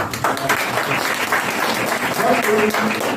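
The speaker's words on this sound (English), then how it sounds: "Can we give her a round of applause, please?" Audience applause after a speaker's talk at a personality and leadership development event, a steady dense wash of clapping filling the room throughout, with some voices mixed in.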